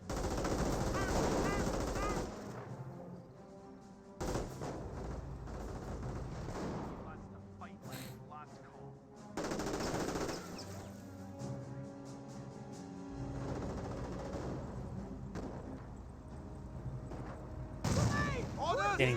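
Rifle grenades and gunfire in Company of Heroes 1, a World War II strategy game with British against Wehrmacht, come as bursts of shots and dull booms through the match, under almost constant commentary talk.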